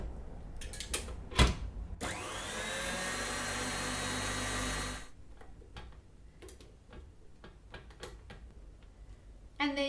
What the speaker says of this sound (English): put that onto the mixer again, just to combine it